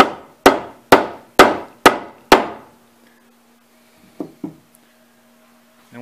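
A wooden handle is hammered in tight with five evenly spaced, ringing blows. After a pause come two lighter taps.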